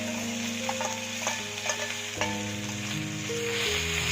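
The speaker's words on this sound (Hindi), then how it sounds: "तेल भी गरम हो गलानी। मैं प्याज एबे छाड़ीबा।" Chopped onions drop into hot oil in a village kitchen pan while fish curry is being made, and a steady crackling sizzle results. Soft tones sound in the background, and nobody speaks.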